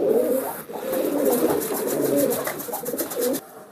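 Pigeons kept for sale coo in soft, low, repeated throaty bursts close by, with a rustling scratchy texture and brief pauses between calls.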